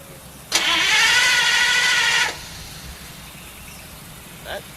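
A Pontiac starter motor cranks the engine in one quick, steady whirring spin lasting about two seconds, close and loud, then stops, leaving a quiet room with a faint click afterward.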